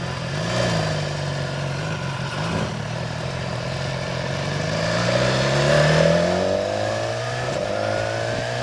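A 2016 BMW S1000XR motorcycle engine pulls steadily on a ride, its tone rising and falling through smooth rev sweeps with a constant close drone and no talk over it.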